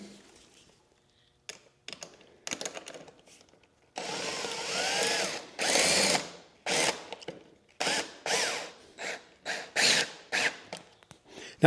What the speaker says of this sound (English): you don't need to have a power driver to do this, but I can tell you, it really does help a lot to make the job go fast